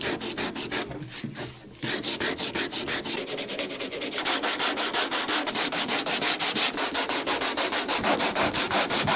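Hand sanding of a fiberglass trunk lid repair on an Altezza with a sanding block, a steady run of rapid back-and-forth rasping strokes, close and loud, with a brief lull near the start.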